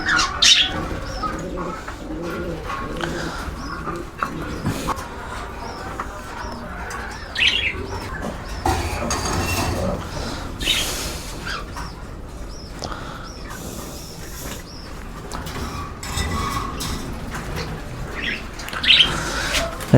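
Pet cockatiels and budgies feed in their cages, giving scattered chirps and calls with occasional wing flutters and pecking over a low room background, with no voices.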